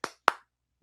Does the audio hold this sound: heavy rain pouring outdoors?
no